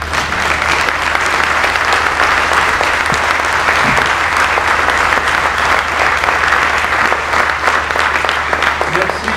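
An audience at an inauguration ceremony for a multi-energy station in La Roche-sur-Yon applauds steadily, dense sustained clapping filling the room from start to finish with a low hum underneath.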